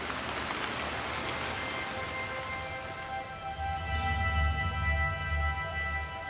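Heavy monsoon rain pours down on the flooded Kaziranga plain, a dense, continuous hiss of drops hitting surfaces, with a low rumble swelling midway through.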